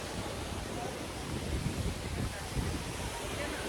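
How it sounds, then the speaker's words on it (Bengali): A waterfall on the Silk Route near Zuluk gives off a dense, steady rushing roar. Gusts of wind buffet the microphone, and the sound stays constant with no distinct events. "আর পেছনে একটা সুন্দর ঝর্ণা"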